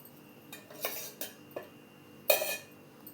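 A spoon scraping and clinking against a bowl while snack ingredients and water are mixed, several separate close strokes at an uneven rhythm, no talk.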